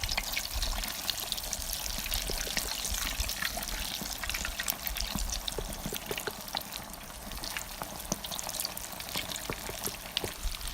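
Floured pork ribs added to hot frying oil for deep-fried adobo, setting off a continuous crackling sizzle with dense popping bubbles, close and fairly quiet, holding steady throughout.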